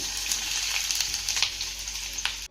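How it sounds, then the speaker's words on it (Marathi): Sliced onion sizzling in an iron pan, a close, steady frying hiss with light crackles and stirring scrapes before it cuts off abruptly. "आता हा कांदा ना चांगला सोनेरी रंगावरती परतून घेऊयात"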